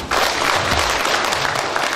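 Audience at a Muan political forum founding meeting bursts into dense, loud applause approving a slate of advisors, a continuous close roar of clapping with no talk.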